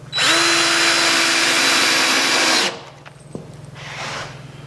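A power drill drives a screw into wood while building an ice hut, a loud high motor whine held for a couple of seconds before stopping, followed by a light clunk and a brief quieter whir.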